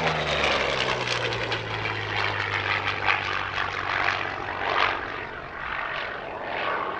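A Yak-3 propeller fighter flies past at the Air Legend airshow in Paris-Villaroche, its engine a loud sustained roar with a steady drone that swells and fades slightly as it passes, no talking.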